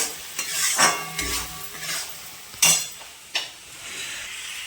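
A spice paste of ginger, chilli, fennel and cumin hits a hot pan for a fish curry, giving a soft sizzle, scraping stirs and clinks of a utensil against the metal in irregular bursts.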